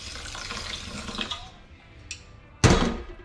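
Water is poured over brown rice and white quinoa in a pot, a brief splashing rush arriving after softer rustling and tapping sounds of kitchen handling.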